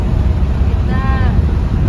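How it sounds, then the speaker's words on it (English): Strong wind buffets the microphone at the beach, a constant loud low rumble with a faint tonal whine briefly rising through it. "It's a little windy, but there is some swell."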